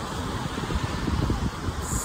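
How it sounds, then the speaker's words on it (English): Strong wind at a sunny beach buffets the microphone with a loud, steady low roar for a couple of seconds. "super windy"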